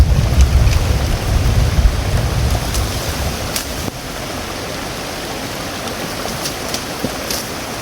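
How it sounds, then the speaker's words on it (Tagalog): Heavy rain pours steadily in a dense, unbroken roar, with a few sharper spatters and no voices. "So yan, malakas na yung ulan tol."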